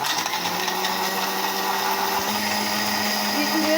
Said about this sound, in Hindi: अब इनको अच्छी तरह से 1 से 2 मिनट के लिए हम ब्लेंड करेंगे